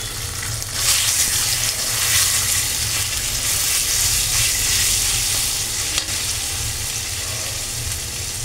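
Taro greens hitting hot oil with bay leaf and a dried chili in a pan, a loud dense sizzle and hiss that swells then settles into steady close frying, no talk.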